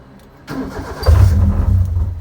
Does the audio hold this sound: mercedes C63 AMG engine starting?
yes